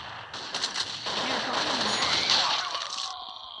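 Gunfire in a shooting video game, a dense sustained burst of rapid shots and crackling blasts at fairly high level, with a voice briefly heard alongside.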